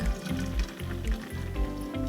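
Fresh homemade nut milk from an almond milk maker pours into a milk jug, a close, steady liquid gurgle with a soft rhythmic pulsing as it fills.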